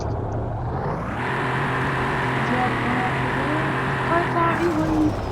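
An off-road car's engine turns over and settles into a running, revving drone that swells slightly toward the end, heard up close as the vehicle sets off.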